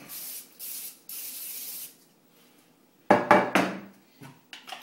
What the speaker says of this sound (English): Grab my pan, take some cooking spray, spray it inside.